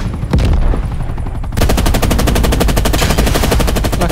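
Rapid automatic gunfire in Call of Duty: Black Ops Cold War, loud and close, a short burst that gives way to a sustained run of evenly spaced shots.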